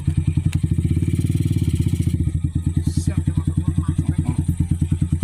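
Motorcycle labouring along a rough, extreme village road, its engine thumping in a steady loud rhythmic chug, close by, with clattering bumps and a faint voice in the background.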